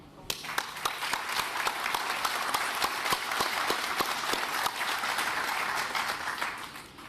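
A crowd claps steadily throughout, applauding a clean innovation speech by a prime minister at an event in Hamilton, Ontario. The clapping is full and sustained, with individual sharp claps standing out from the dense wash.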